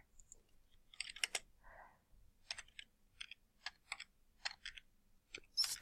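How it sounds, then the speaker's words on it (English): Typing on a computer keyboard: close, crisp key clicks in irregular short bursts and single taps with brief pauses between, no voices. "I'm going to type"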